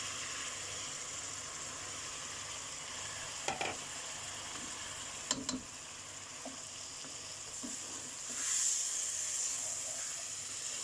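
Rice sautéing in a pan with green chilies for vegetable pulao, a steady close sizzle with a couple of sharp spatula scrapes and stirs, briefly swelling louder near the end, with no talking.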